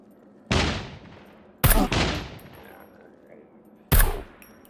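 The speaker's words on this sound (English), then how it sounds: "I'm just going to use my gun" Player's gun firing in SCUM, four sharp loud shots spaced irregularly, two of them close together, each with a short decaying echo in a quiet outdoor setting.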